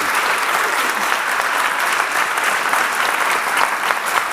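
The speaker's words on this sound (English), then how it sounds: "Warm applause to the panel." Loud, dense applause from a conference audience for a panel on combatting antimicrobial resistance. The clapping is continuous and even from start to finish, with no talking over it.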